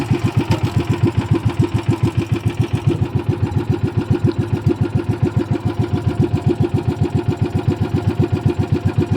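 A small boat engine runs steadily and close by, chugging in a fast, even, pulsing rhythm that stays unbroken throughout.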